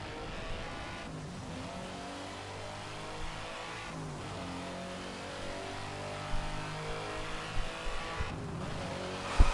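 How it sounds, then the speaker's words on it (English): A Porsche Carrera GT engine revs and accelerates during a Need for Speed Hot Pursuit Remastered race, a steady loud drone with rising and falling pitch and a few brief knocks near the end. "Push Carrera GT."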